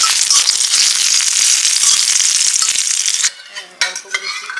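Ginger frying in hot oil with cumin seeds for a light paneer and potato curry, a loud dense sizzle under stirring that drops away sharply near the end, leaving brief clinks of a utensil against the pan.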